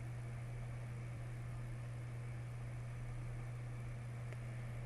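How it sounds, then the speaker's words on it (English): A laboratory centrifuge spins at about 4,000 to 5,000 RPM with a steady, low, even hum and hiss that holds unchanged for several seconds, with no voices. "During centrifugation,"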